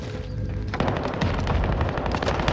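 Rapid automatic gunfire from a video game erupts loud and close, a dense stream of shots and booms lasting to the end, with no talk.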